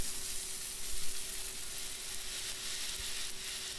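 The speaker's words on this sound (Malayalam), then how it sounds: "ഇനിയിപ്പോൾ വെളിച്ചെണ്ണ ചൂടായി അതിൽ കറിവേപ്പില ഇടുകയാണ്" Curry leaves sizzling in hot coconut oil, a steady, close, loud crackling hiss that runs throughout with no voices.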